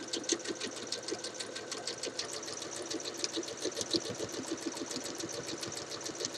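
A home sewing machine runs continuously at an even, rapid stitching rhythm, its presser foot guided along a marked red stitching line while sewing a shirt dress, close and alone without speech.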